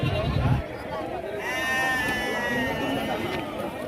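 Goats and sheep bleating at a crowded village livestock market ahead of a festival, several overlapping animal calls over general crowd noise, with someone talking briefly at the start.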